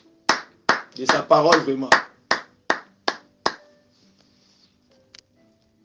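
Church congregation applauding, heard as a series of sharp, separate claps in an irregular rhythm, close and loud, with a voice speaking briefly over them before they fade into near silence.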